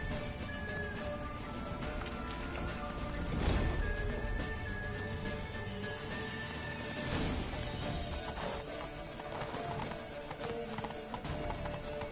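Horse hooves clip-clop at a steady gallop through The Witcher 3, with occasional whinnies, two louder crashes or impacts around the middle, and a continuous game music and ambience bed underneath.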